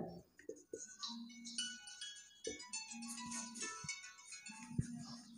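A phone rings with a sequence of electronic ringtone notes, steady tones and short plucked pulses repeating in a melodic pattern, fairly faint and with no talking over it.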